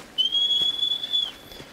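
A single sustained high whistle calls the horse Agro in the Shadow of the Colossus video game, lasting about a second, clear and prominent over a quiet background.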